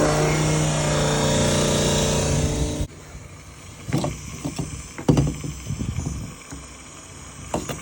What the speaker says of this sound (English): Seems to be pumping pretty good.